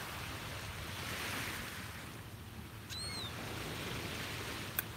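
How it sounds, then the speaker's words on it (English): Ocean waves wash onto a beach at dawn in a soft continuous roar with light wind noise, and a brief bird chirp cuts through near the middle. "enjoying these beautiful sounds of the waves and the birds chatting."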